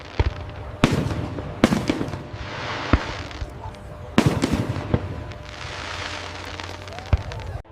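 Fireworks bursting in the sky, several sharp booming reports spaced a second or two apart, each followed by crackling fizz and a long decaying rumble at moderate distance.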